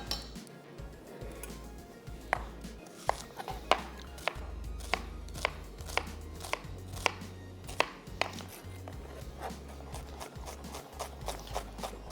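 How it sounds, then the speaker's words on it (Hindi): A single onion chopped on a board for a Chinese-style hoisin chicken dish, a close series of sharp knife taps in an uneven rhythm, fairly quiet, with a faint clink now and then. "1 अदद प्याज को करेंगे चॉप।"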